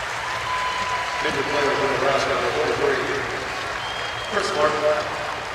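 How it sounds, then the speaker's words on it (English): Arena crowd at Gila River Arena during an indoor football game between the Nebraska Danger and Arizona Rattlers, clapping steadily in sustained applause with rises in volume, under a commentator's talk. "how about the crowd here? Oh, yeah. Gila River Arena, they're showing their appreciation"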